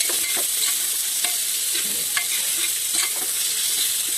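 Masala rice frying in a pan as tomato and coriander are stirred in, giving a steady close sizzle broken by repeated light spoon scrapes and clicks, with no talking.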